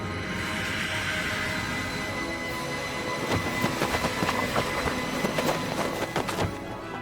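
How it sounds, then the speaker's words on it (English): Night train pulling into a station in an animated horror scene, a steady rumbling roar that turns into rhythmic clattering wheels and squeals in the second half, fairly close and with no voices. "the night train suddenly appeared"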